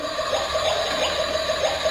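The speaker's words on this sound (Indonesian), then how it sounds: "Ada bunyinya. Bunyinya kayak bunyi memasak beneran ya." Toy kitchen stove playing its electronic cooking sound, a steady hissing, watery rush that loops evenly for the whole stretch, close and moderately loud, with no voices.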